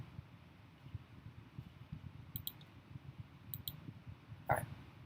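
A computer mouse clicking in a software interface, a few crisp, close clicks spaced a second or so apart over faint room hum, the last one slightly louder.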